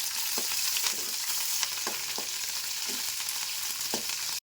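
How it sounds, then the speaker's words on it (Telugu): Mustard seeds and chillies fry in hot oil, with a continuous loud sizzle and scattered sharp pops and crackles of the seeds, heard close and without voices. "ఆవాలు, మిరపకాయలు కొంచెం గోలాలి."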